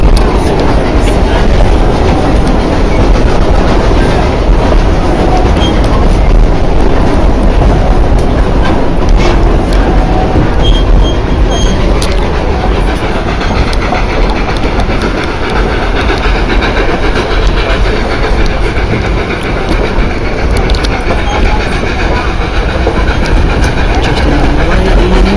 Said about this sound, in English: There's the train on the other side.